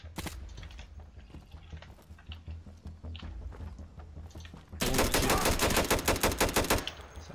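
Rapid bursts of automatic M4 rifle fire in the Infinite Warfare shooter game, loud and close, with scattered shots early on and a dense sustained volley near the end.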